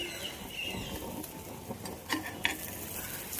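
Mixed dal pancake frying in a pan, a steady close sizzle with soft crackles and a few sharper pops, no voices.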